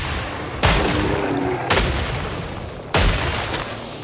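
Gunfire in the video game Killing Floor 3 comes as three heavy, booming shots spaced about a second apart, each with a sharp onset and a lingering roar under a constant background din.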